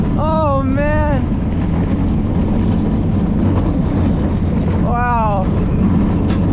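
Copperhead Strike roller coaster at Carowinds in Charlotte, North Carolina, roaring with a steady wind-and-track rush throughout, while riders' excited shouts break through near the start and again toward the end.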